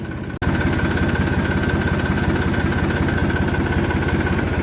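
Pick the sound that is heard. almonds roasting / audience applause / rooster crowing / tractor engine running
tractor engine running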